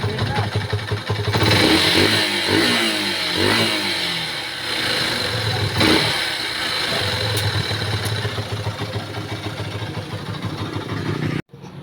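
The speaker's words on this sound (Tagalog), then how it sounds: "responsive na po yung kanyang throttle no pag pinipiga ay nagre-response na ito na maayos" A motorcycle engine revs up and down as the throttle is twisted after a spark plug change, with loud swelling pulls over a steady idle. Someone talks over the engine throughout.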